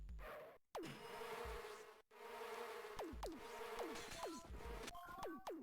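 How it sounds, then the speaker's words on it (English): Bees in the Amiga game Zool buzz with a busy, continuous drone, broken by short gaps and overlaid with quick falling game effects near the end. "I always hate these stupid bees."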